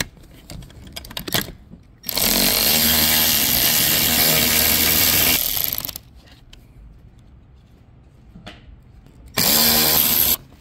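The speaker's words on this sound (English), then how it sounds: "So we're using a 10 millimeter socket. You can have two nuts right here." A power tool driving a 10 millimeter socket removes nuts from a Tesla Model 3 front seat, running in a loud, steady whirring burst of several seconds and then a shorter burst, with light handling clicks between.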